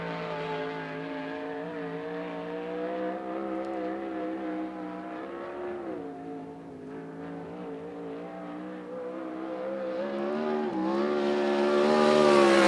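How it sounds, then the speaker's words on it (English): USAC Southwest race car running qualifying laps at Central Arizona Speedway, a sustained high-pitched engine drone with shifting pitch as it circles the track, swelling louder near the end as the car approaches. "As now the 47 car of Charles Davis Jr. will begin his qualifying laps."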